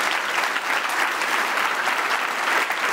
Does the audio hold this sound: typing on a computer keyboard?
no